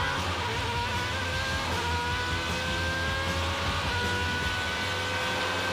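Superleague Formula race car powering out of a corner at Estoril, its engine loud and close with a continuous high rising whine, one brief dip for a gear shift partway through.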